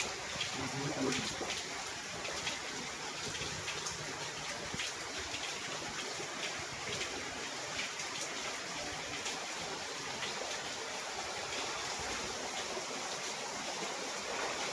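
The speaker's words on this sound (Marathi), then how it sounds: "त्याच्यामध्ये एवढं सार पाणी आलं एवढा पाऊस आहे" Heavy rain and floodwater pour into a house in Dharashiv, a steady, dense rushing and splashing wash that continues unbroken and fairly close throughout, with no voices.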